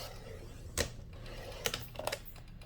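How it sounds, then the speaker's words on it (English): A paper trimmer slicing through a planner cover, with a few sharp clicking, snapping cuts and handling noises over a quiet background, no talk. "One thing with this paper trimmer is that sometimes it does shift a little bit"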